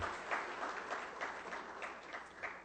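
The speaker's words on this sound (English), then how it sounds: "give a warm round of applause for them" Seminar audience in Riyadh applauding, a steady wash of many hands clapping at moderate distance, fairly soft and unbroken for a few seconds with no talk over it.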